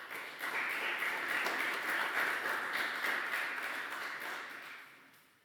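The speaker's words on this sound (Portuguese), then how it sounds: "uma grande salva de palmas para Henrique Pereira." Sustained applause from a conference audience in a hall, steady, dense, fairly even clapping that gradually tapers off toward the end.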